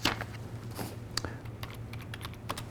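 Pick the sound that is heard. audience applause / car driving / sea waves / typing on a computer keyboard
typing on a computer keyboard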